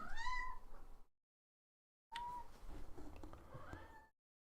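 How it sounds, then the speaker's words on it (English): A cat meows twice, close and fairly quiet, with a short silence between the two calls and no voices. "What, cat?"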